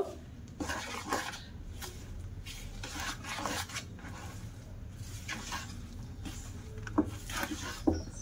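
Flour and powdered milk mixed by hand in a bowl for crisp biscuits, heard as soft, irregular scraping and patting strokes against the bowl, fairly quiet and continuous with no talking.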